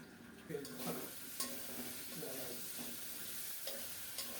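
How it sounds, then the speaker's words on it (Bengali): Tomato and torn bay leaves drop into a hot frying pan of browning chicken for mung dal, giving steady close sizzling with a few stirring scrapes and brief clinks over a constant frying hiss. "একটা টমেটো দিলাম দুইটা তেজপাতা ছিঁড়ে দিয়ে দিলাম"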